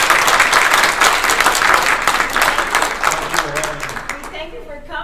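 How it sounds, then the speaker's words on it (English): An audience applauds after a tick task force presentation, with loud dense clapping that thins toward the end as a voice begins speaking over it. "Can we give Dr. Cameron a round of applause"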